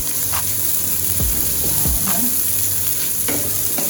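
Coconut milk poured into a sizzling pan of Jamaican-style curry shrimp cooked with butter, giving a loud, steady frying hiss with stirring scrapes close up.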